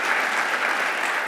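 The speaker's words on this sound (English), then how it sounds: "round of applause" Dense, continuous applause from an audience at a talk on Indigenous leadership, steady and fairly loud for its whole short span.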